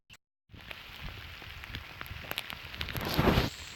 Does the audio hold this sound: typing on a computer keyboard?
no